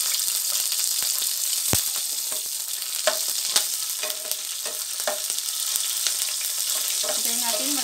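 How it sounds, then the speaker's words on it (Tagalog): Garlic frying in hot oil with ginger for pakbet na ampalaya, a steady broadband sizzle with occasional scrapes and stirs of a utensil in the pan, fairly close and continuous. "Antayin natin mag-golden brown ulit ang bawang."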